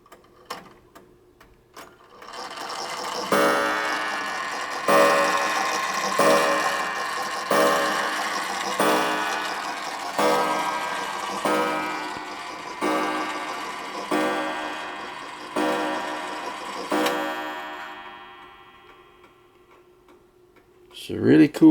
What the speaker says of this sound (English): Let you listen to the chime here